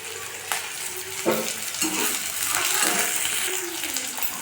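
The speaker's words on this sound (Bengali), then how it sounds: "কড়াইতে সর্ষের তেল দিয়ে পেঁয়াজটা দিয়ে দিয়েছি দিয়ে এখানে ভেজে নেবো পেঁয়াজটাকে" Onions fry in mustard oil in a wok with a steady, close sizzle, broken by a few scraping stirs and soft clatters throughout.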